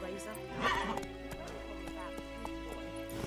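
Horse from The Witcher 3 whinnying loudly near the start, then hooves clip-clopping in a steady rhythm over game music and ambient tones.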